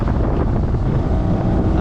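Strong storm wind roars across a small fishing boat on rough water, buffeting the microphone with a loud, steady, unbroken rush that drowns out everything else.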